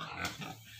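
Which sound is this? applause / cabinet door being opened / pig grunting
pig grunting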